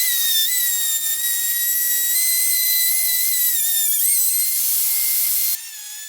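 Loud, steady high-pitched whine of a router cutting recessed drawer pulls into wood, running continuously with slight pitch dips before cutting off abruptly near the end and leaving a quieter hum.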